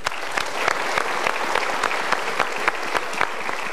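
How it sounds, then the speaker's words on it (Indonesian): Studio audience applause on an Indonesian motivational talk show, a dense burst of many hands clapping with sharp individual claps standing out, loud and steady throughout with no talking. "Sekali lagi kita berikan tepuk tangan"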